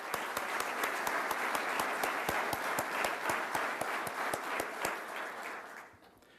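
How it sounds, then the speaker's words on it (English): An audience claps with sharp, rapid, distinct hand claps, sustained evenly before fading out at the end. "how about a big round of applause for Dr."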